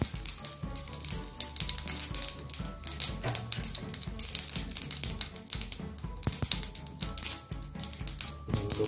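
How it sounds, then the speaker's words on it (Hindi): Urad dal roasting in a pan over a slow flame for coconut chutney, a steady close crackle and sizzle with quick tapping pops running throughout. "थोड़ा सा हम लोग उड़द के दाल को ऐड करेंगे, ये हम लोगों को स्लो फ्लेम पे थोड़े टाइम तक इसको भून लेना है"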